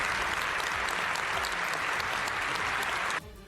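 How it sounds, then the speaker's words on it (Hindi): Canadian MPs stand in parliament and applaud Volodymyr Zelenskyy, loud sustained clapping from a large room that drops off sharply in the final moments. "सभी सांसद एक साथ खड़े हुए और तालियां बजाकर उनका स्वागत किया"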